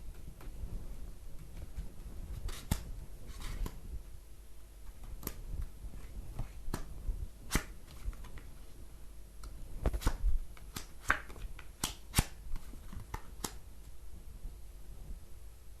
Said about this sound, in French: Pendant que je place les cartes